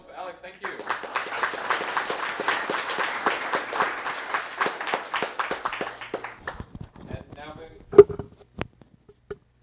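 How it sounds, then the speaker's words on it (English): An audience at a Cyberspectrum meetup applauds a speaker, with dense clapping running for about six seconds before fading into a few scattered claps and one sharp, louder clap near the end. "Round of applause for Alex"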